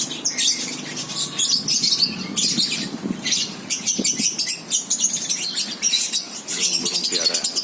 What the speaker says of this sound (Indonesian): Di dekat rumah nih ada orang piara burung.